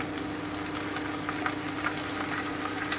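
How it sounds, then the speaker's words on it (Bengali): Cashews and raisins fry in a pan, giving a steady, close sizzle with scattered small pops and crackles throughout. "একটু ভালো করে ভেজে নেব এবারে আমি কাজু কিশমিশটা দিয়ে দিলাম"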